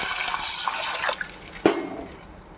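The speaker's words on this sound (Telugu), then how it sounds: "రెండు గ్లాసులు వాటర్ పోసుకుందాం." Two glasses of water poured into a hot pan of softened onion, coriander and curry leaves while making rava upma, a steady splashing pour with a brief louder splash near the end.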